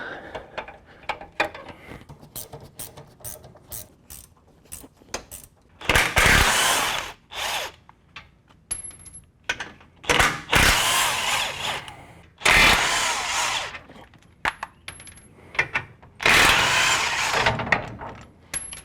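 An impact wrench works on a Jeep Rubicon sway bar link during a conversion kit install. It comes in loud, close bursts of harsh whirring and hammering, separated by quieter stretches of clinking and handling.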